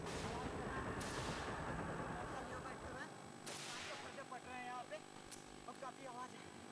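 Gunfire crackles during a security forces' encounter with Maoists in the field, with a few sharp distant reports standing out above a dense, noisy outdoor background, while a voice talks over it.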